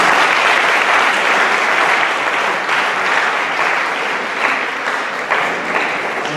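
An audience applauds steadily and loudly at a talk against the death penalty, welcoming Suezann Bosler, a dense continuous clapping with no voices over it.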